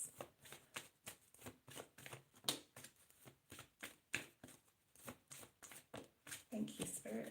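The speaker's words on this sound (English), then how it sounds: "We're going to pull a few cards." Tarot cards being shuffled by hand in a steady run of quick riffling bursts, close and fairly quiet, with a brief spoken voice near the end.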